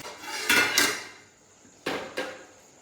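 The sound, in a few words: sautéing garam masala in a cooking pan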